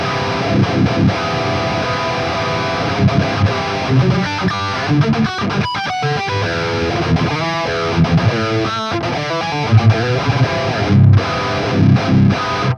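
Heavily distorted electric guitar through an amp plugin's default rhythm preset strums out a dense, driving rhythm part, thick and saturated, playing continuously and loud with no voices.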